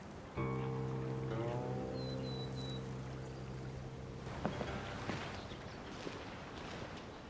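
Water lapping and flowing around a raft in a video game, steady and fairly close, with a sustained tonal hum underneath and a few faint clicks toward the end; no talking.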